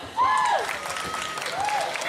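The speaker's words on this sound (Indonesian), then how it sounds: "Tepuk tangan dulu dong" Students at a school anti-drug seminar give a short burst of applause for a classmate, with a raised voice calling out briefly over the clapping.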